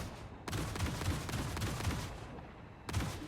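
A ballistic cannon on a ground vehicle fires in Star Citizen: a dense, roaring burst of rapid shots that lasts about two seconds, a brief gap, then another burst starts, loud and close with no voices.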